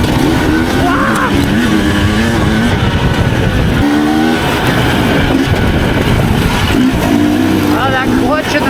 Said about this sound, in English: I heard the acceleration, which would have uprighted, but the clutch was in is why you revved